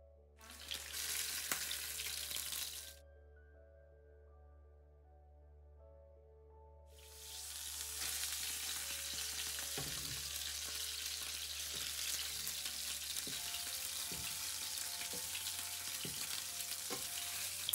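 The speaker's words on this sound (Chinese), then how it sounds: "在烧热的干锅中倒入适量的食用油，把腌制好的鱼放入锅中煎" Marinated fish fries in hot oil in a wok: a loud sizzle breaks off for a few seconds of quiet hum, then returns as a steady hiss with scattered crackles and occasional scrapes, with no voices.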